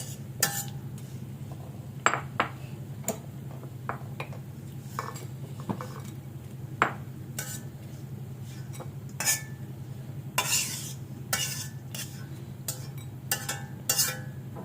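Fried dried fish is lifted out of a pan, with a run of sharp metallic clinks and scrapes of a spatula against the cookware over a low steady background hum, close and fairly loud, no talking.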